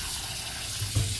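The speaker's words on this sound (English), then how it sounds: "What I'm going to do here now is just add some cold water over it" Cold tap water runs over a pot of boiled potatoes, a steady close rushing wash that carries on unbroken, with no talking.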